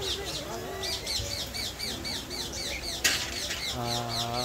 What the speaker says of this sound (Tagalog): Ring neck. Parrot.